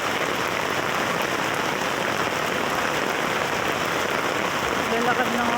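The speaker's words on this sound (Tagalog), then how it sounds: "Malakas ng ulan guys." Heavy rain pours steadily outdoors near a market street, a dense even hiss of drops on surfaces, loud and unbroken throughout.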